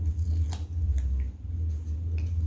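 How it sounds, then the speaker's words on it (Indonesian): Scissors snip colored paper during a children's Sunday school craft, making a few crisp, separate cuts over a steady low hum in the room. "bagaimana kalau kita gunting sedikit ya?"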